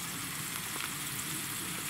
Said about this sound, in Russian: Лук жарим и еще два пирожка с горохом греются